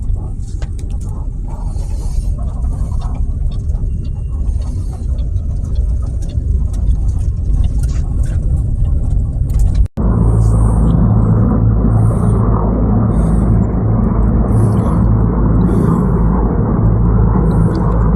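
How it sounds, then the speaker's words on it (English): A van's engine running while driving, a loud steady low rumble with road noise that deepens into a heavier drone partway through, close and continuous with no talking. "I'm going to crank up the van, go to a park, and have some coffee"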